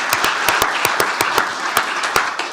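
Applause fills a county commissioners court room for an employee honored for 30 years of service, with a general wash of clapping broken by sharp, distinct claps from hands close by.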